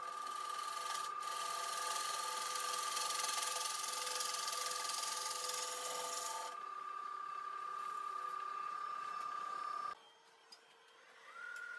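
Wood lathe spinning a workpiece as a bead shape is turned on a rim, a steady loud whine with a constant tone and scraping texture that drops in intensity partway through and nearly stops near the end.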